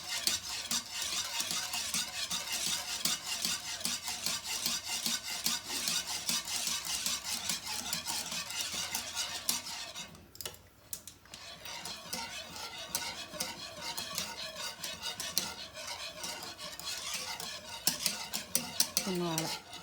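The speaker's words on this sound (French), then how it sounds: "Et on mélange, on mélange." Béchamel sauce being stirred in a pan with a utensil, a steady scraping and swishing with a soft sizzle, continuous and close, with a short pause midway before the stirring resumes.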